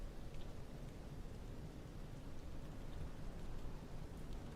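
Steady rain washes over an Airbus A380 landing in Microsoft Flight Simulator 2020, a dense continuous hiss of falling water that stays even and fairly loud throughout with no voices.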